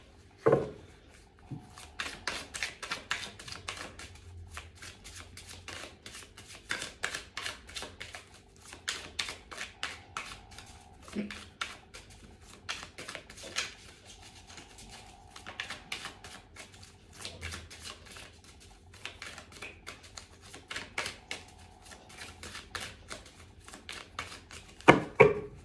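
Tarot cards shuffled by hand in a long, steady run of crisp riffling bursts and soft rubbing, fairly close, with a few brief pauses and no talking.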